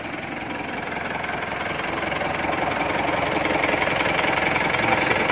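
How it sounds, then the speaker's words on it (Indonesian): A 2015 Mitsubishi Pajero Sport GLX engine idles steadily, a dense, even mechanical rumble with a faint knocking texture that holds at a constant, close level throughout, with no talking. "dengerin suara mesinnya."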